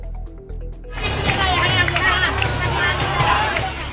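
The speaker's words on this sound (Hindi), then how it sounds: "ताली पीटते और हंगामा करते किन्नरों की यह तस्वीर है लालू प्रसाद की चुनावी सभा की।" Noisy commotion of a crowd of eunuchs clapping and shouting at Lalu Prasad's election rally in Belaganj, Gaya, Bihar, bursting in abruptly after a quieter start and staying loud and dense.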